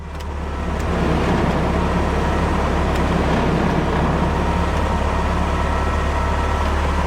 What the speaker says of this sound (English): Blower motor works just fine.